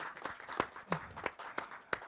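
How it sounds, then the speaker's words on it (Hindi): Scattered applause from an audience at a film teaser launch, a handful of distinct claps spaced irregularly and rather faint, sounding like a small group clapping briefly. "जोरदार तालियां हो जाए अमरदीप सर के लिए।"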